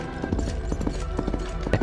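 Coconut shells knocked together mimic a galloping horse for film sound effects, giving a brisk, even clip-clop rhythm of hollow hoof-like knocks, close and fairly loud.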